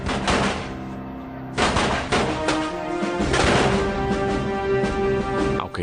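Gunfire sound effect from a Napoleonic-era battle between French and Anglo-Portuguese forces: loud irregular bursts of shots and booms over a sustained musical drone, with faint voices at times.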